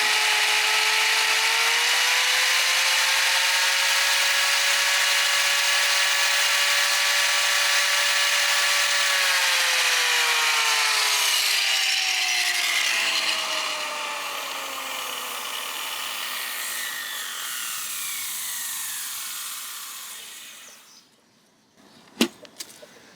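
A power tool cuts through heavy scrap metal while running off an EcoFlow River Pro portable power station. A loud, steady motor whine dips in pitch under load, then winds down and fades, ending in a couple of sharp clunks.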